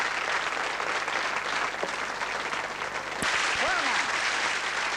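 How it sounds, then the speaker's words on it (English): A studio audience at a televised magic show gives a sustained round of applause for two volunteers, with a presenter's voice heard over the clapping. "And nice round of applause to two very good volunteers."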